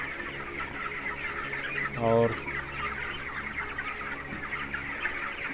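Chickens on a poultry farm, a Suguna broiler flock about 25 days old, cluck and murmur softly under a fan, with one louder, distinct cluck near the middle and a brief spoken word.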